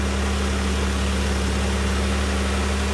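A New Holland tractor engine running steadily while puddling a paddy field, giving a loud, even, low drone with a constant hum and no voices over it.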